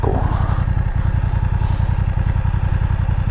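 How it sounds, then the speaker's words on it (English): A BMW F900R motorcycle engine runs steadily throughout, a loud, close, continuous mid-pitched drone with a fine clicky, ticking texture, picked up from the bike itself while riding. "don't go by the clicky sounding of the motor"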